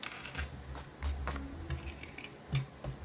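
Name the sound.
cutting with scissors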